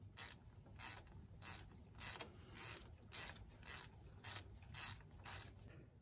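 A ratchet wrench loosening the lock nut on the power steering pump of a 2000 Toyota Sienna, giving about ten evenly spaced ratcheting bursts in a steady rhythm, close but quiet, with no talk.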